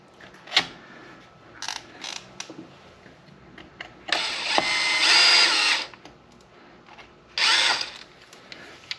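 A power tool whirs in short bursts and two longer runs while screws are driven into the differential cover of an Arrma Big Rock 6S RC truck, close and loud, with faint mechanical clicks between.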